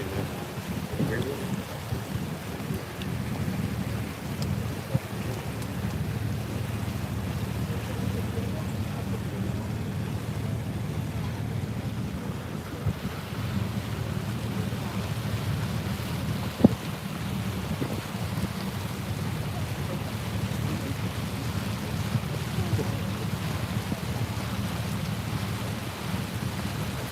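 Steady rain pours around a boat on a river, forming a continuous dense hiss with low rumbling and wind buffeting the microphone, plus a couple of sharp knocks, with no one speaking.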